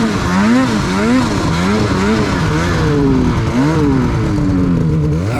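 Snowmobile engine fitted with a BoonDocker Sidekick stock-exit muffler revs loudly and continuously close by, rising and falling in repeated pulls with no talking.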